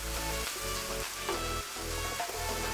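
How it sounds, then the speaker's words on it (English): Ginger, garlic and tomato sautéing in a pan for a king fish curry with young mango give a steady, moderately loud sizzle. Soft stirring scrapes recur through it, and no one speaks. "ginger garlic, tomato. Saute them. Let the tomato cook well."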